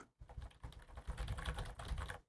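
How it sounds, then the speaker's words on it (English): Rapid typing on a computer keyboard, a dense run of close, fairly quiet key taps that continues without pause for about two seconds, with no voices over it. "Can you hear my typing?"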